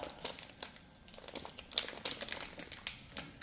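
A paper spice packet of turmeric is torn open by hand in a home kitchen, giving close, quiet crinkling and ripping bursts in a quick irregular run with no talking.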